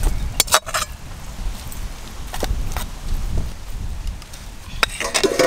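Potato filling for aloo chop is poured from a cooking pot to cool, with a spoon scraping and clinking against the metal in a few sharp knocks amid soft, muffled shuffling.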